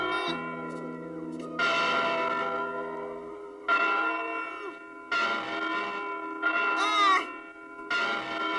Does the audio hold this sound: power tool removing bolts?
no